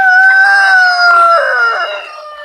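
A rooster crows loudly and close, one long drawn-out call with a bright, strained tone that fades at the end.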